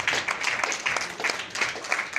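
Applause from mourners at a Lagos funeral service for a society woman, a moderate crowd clapping steadily and fairly close, with some scattered louder claps throughout.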